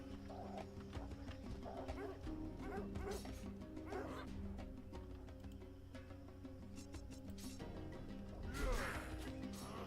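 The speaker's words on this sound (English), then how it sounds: "Stupid dog." Dogs bark and yip in the Of Orcs and Men video game, repeated sharp barks and a whimper amid combat clashes and background music, with a brief crash near the end.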